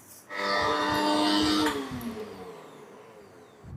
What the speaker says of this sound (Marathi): हे आता मिक्सरला एकदम बारीक असं फिरवून घेऊयात.